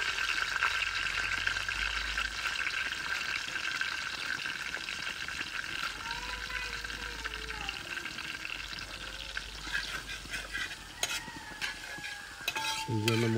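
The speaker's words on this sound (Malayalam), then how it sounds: "ഇഞ്ചിയൊന്ന് മൂത്ത് വരുന്നുണ്ട്." Ginger fries in hot oil for a Kerala-style crab roast, a dense continuous sizzle and crackle up close, with stirring scrapes and faint background sounds underneath.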